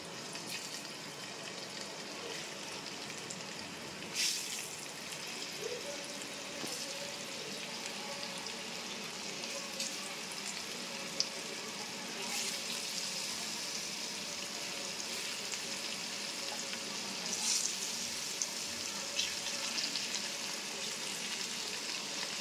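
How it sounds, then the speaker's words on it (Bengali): Paneer pieces frying in oil seasoned with salt, turmeric and chilli, a continuous broad hiss and sizzle that stays even throughout, with a few faint clinks. "পনিরটাকে আমি একটু ভেজে নিচ্ছি।"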